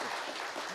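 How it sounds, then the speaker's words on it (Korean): Brief burst of audience applause at a Korean science journalism talk event: steady, dense clapping from a crowd, moderately loud and sustained for under a second, with no voices over it. "박수 한번 보내주십시오"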